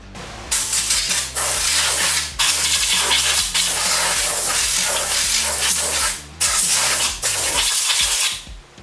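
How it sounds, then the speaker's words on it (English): Loud bursts of compressed air from an air compressor hiss and blow steadily into the CVT housing of a Can-Am Defender, blowing out dust, cutting off briefly a few times between long sprays, close to the listener. "spray all this out really good with air compressor"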